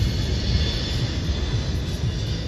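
A C-17 military transport aircraft landing at the Miramar air show with its reverse thrust engaged, a loud, steady broadband jet roar that holds constant with no voices over it.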